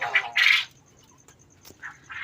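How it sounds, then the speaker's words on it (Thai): Several harsh, nasal honks from a goose sound close by, two bursts at the start and two more near the end, with quiet gaps between, at a quail farm. "ต้องขออภัยนะครับ เสียงห่านนะครับห่าน"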